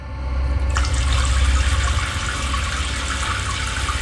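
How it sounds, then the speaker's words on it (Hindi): A shower runs with a steady, loud hiss of spraying water close by, continuous for the whole stretch with slight surging, as a sound effect in a horror story, with no voices. "ऑफिस की थकान कम करने के लिए पूजा शावर लेने जाती है"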